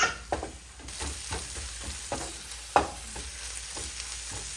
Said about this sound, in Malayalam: നമ്മൾ വഴറ്റിക്കൊണ്ടിരിക്കുകയാണ്.